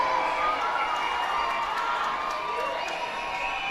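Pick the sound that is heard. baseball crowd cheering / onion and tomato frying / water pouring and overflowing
baseball crowd cheering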